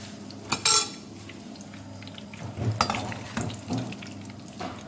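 Chicken croquettes fry quietly in a pan under a soft sizzle, while sharper clinks and scrapes of utensils against cookware break through a few times. No one speaks.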